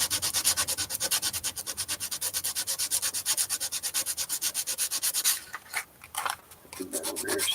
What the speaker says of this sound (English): we'll sand that down so it's nice and smooth.